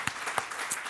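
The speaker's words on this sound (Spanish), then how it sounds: "Aplaudamos al Señor por esto." A church congregation applauds: a brief burst of many hands clapping together, with individual sharp claps standing out from a steady patter across the whole second.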